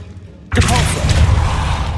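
A Depulso force spell is cast in Hogwarts Legacy, beginning with an abrupt heavy thud followed by a sustained loud, rumbling whoosh with some voice blended in.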